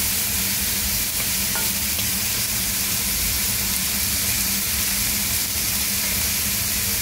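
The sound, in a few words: stirring pork adobo with chicken wings in pan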